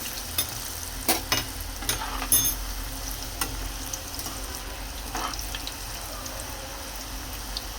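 Potato strips for French fries fry in hot oil in a home kitchen, giving a steady, close sizzle with scattered crackles and pops throughout.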